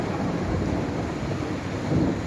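A heavy thunderstorm with intense rain roars steadily and loud throughout, with deep low rumbling of thunder beneath the dense downpour and a swell near the end.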